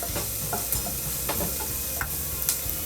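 Green peas frying in a pan, a constant close sizzle broken by several sharp scraping stirs of a spatula at irregular intervals, with no talking.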